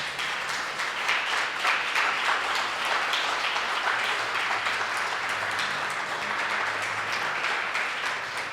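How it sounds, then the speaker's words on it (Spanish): A church congregation applauds during a sermon, a broad, steady wash of many hands clapping together that sustains evenly throughout without pause. "Denle un aplauso al Señor, por favor."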